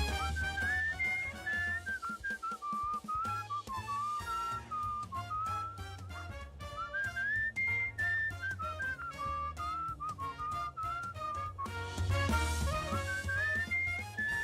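A video game character whistles a wandering melody while travelling, clear and sustained over soft instrumental backing music, phrases rising and falling continuously.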